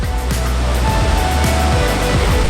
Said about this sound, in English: I'm here at the Ban Gioc Waterfall in northern Vietnam, probably the most beautiful waterfall in the whole country.